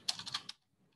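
About half a second of quick, close keystrokes on a computer keyboard while JavaScript code is written, a handful of soft clicks that end in quiet.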